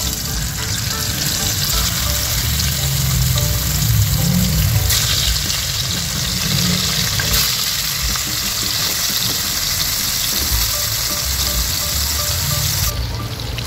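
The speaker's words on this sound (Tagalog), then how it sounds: "At tayo muna ay magpiprito." Tuna frying in oil in a pan, a loud, continuous close-up sizzle with crackling spikes and occasional bursts of spatter.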